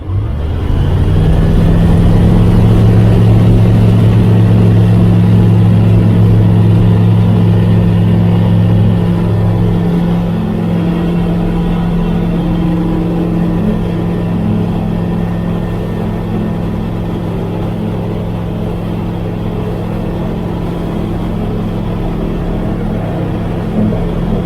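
A 100-horsepower microlight plane engine drones loud and steady in flight over the Isle of Wight, a constant low hum with a slight pitch shift partway through, wind noise layered over the top and no voices.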